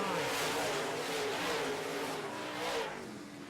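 Modified race cars roar around a racetrack, several engines blending into a continuous revving drone that swells and fades as cars pass at mid distance.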